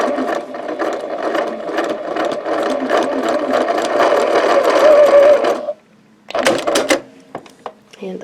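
A sewing machine stitches curved quilt pieces in a steady, rapid mechanical rattle for several seconds, then stops briefly before a short second burst and a few clicks, loud and close, with no talk over it.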